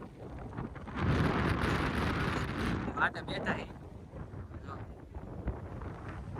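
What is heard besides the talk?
strong wind on the microphone outdoors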